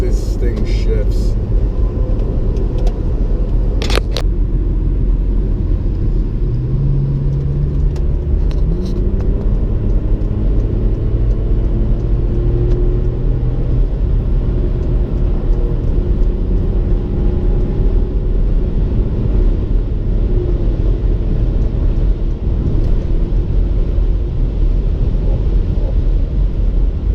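A 2018 Porsche Macan S drives on the road, heard from inside the cabin as a loud, constant engine and road drone with engine tones rising and shifting, while people talk over it.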